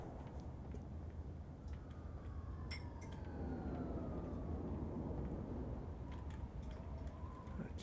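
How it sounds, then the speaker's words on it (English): A siren in Broken Sword 3 video game city ambience wails faintly in the distance over a low steady urban rumble of passing traffic, with a few light clinks scattered through. "Siren."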